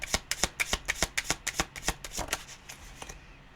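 A deck of tarot cards is shuffled close up in quick repeated riffles. The sharp flutters come at a brisk rhythm and then fade to softer, looser shuffles at the end.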